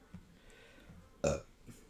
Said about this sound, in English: Oh my god, I can't believe I burped like that.